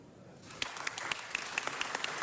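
Scattered applause for Riley Gantt in a Los Angeles City Council chamber, starting after a quiet half-second and continuing as a steady, moderately faint patter of clapping hands with a few sharper claps standing out.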